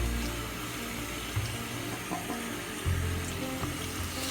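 Tap water runs steadily into a sink while hands are rinsed under it. The splashing is continuous, close and moderately loud, with small shifts as the hands move through the stream.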